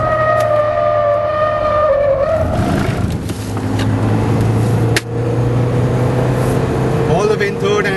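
A Mahindra XUV500 engine drones loudly as it is driven flat out on a race track with the rear sliding, the pitch shifting through a gear change, while someone talks over it.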